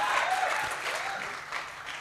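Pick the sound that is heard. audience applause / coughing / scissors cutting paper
audience applause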